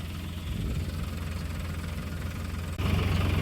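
A GPS-guided tractor's engine runs in a steady, low, throbbing idle close by, then rises to a slightly heavier, louder rumble near the end.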